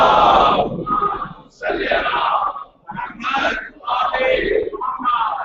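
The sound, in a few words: crowd chanting salawat in response to call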